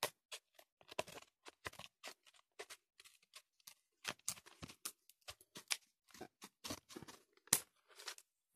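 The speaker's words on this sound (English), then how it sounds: "I'm just gonna cut away the plastic" Plastic packaging being cut away from a Nintendo Switch game case: a run of quiet, close, irregular snips, crackles and tearing rustles with short gaps between them.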